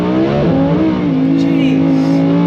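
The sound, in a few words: Lamborghini car accelerating in sport mode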